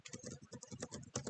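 Quick, close keystrokes on a computer keyboard tap out a rapid run of about a dozen clicks in just over a second.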